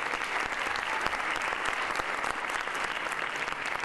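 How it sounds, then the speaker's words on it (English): A concert audience at a xylophone ragtime performance gives the presenters another round of applause, a thick, steady wash of clapping at constant loudness throughout. "let's give our presenters another round of applause"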